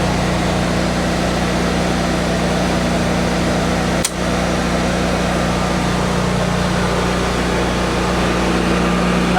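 A Generac 26 kW standby generator engine runs as a steady, loud mechanical hum with a constant low drone, broken by one brief click near the middle.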